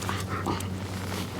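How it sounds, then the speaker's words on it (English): A pet dog gives brief soft whimpers while being petted indoors, close by and fairly quiet. "what I'm doing here is petting my dog"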